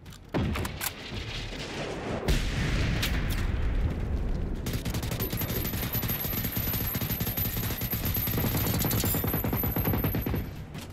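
Sustained gunfire in the video game Generation Zero, with dense rapid shots and heavy booms rolling almost continuously and loud throughout, after a brief quieter opening.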